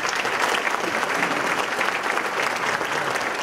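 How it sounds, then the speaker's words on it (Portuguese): Sustained applause from a crowd at an agribusiness event in São Paulo, honoring a speaker; dense, even clapping fills the whole stretch with no pauses, close and loud. "eu peço que todos o homenageiem com um aplauso"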